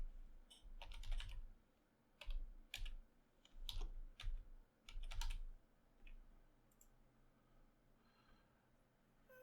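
Keys clatter on a computer keyboard as a category name is entered in LibreOffice Impress, in several quick bursts of close, crisp clicks separated by short pauses, with no talking.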